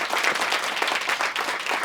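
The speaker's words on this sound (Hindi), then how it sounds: "तो एक बार तालियां हो जाए।" Studio audience at an election-results talk show gives a short round of applause, brisk crowded clapping that is fairly loud and close, under two seconds long.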